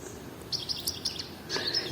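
A songbird, likely caught during small-bird trapping at a new site, sings in short bright chirps and trills, close and clear, in several quick phrases over a quiet outdoor background.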